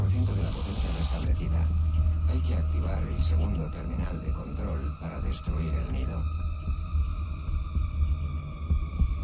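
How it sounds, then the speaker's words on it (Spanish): A heartbeat in the video game Doom Eternal thumps in low, repeating throbs beneath a droning hum and scattered game noises, steady throughout. "Y me gusta mucho el sonido del latido."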